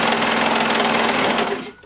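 A serger stitches bodysuit fabric in a fast, loud, even mechanical whir that runs steadily, then slows and stops near the end.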